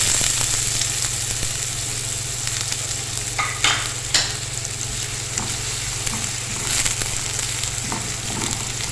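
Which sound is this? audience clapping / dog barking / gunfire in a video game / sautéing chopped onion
sautéing chopped onion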